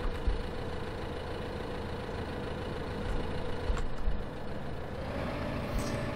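New Holland garden tractor engine idling in Farming Simulator 15, a steady low rumbling drone with a few faint clicks, no talking.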